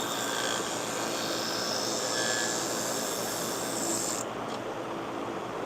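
Gingher sewing scissors lightly touched against a spinning sharpening wheel: a loud, steady whirring grind with a hissy edge that drops away abruptly near the end.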